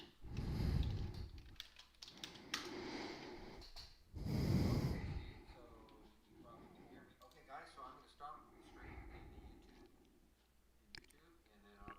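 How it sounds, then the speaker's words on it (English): Someone breathes heavily close to a microphone in a live online trading room, with loud breathy gusts at the start and again around the middle, separated by quieter clicks and faint noises. "heavy breathing. I hear that"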